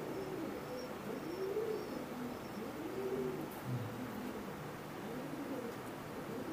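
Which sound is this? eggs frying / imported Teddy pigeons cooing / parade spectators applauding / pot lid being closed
imported Teddy pigeons cooing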